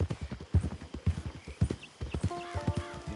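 Horse hooves clip-clop in a quick, steady rhythm close by in Red Dead Online, with a short whinny near the end over faint ambient tones.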